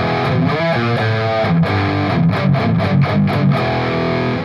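Distorted electric guitar plays a classic main riff, thick chugging notes with sharp rhythmic stabs toward the end, loud and alone.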